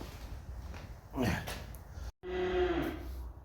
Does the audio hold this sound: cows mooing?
yes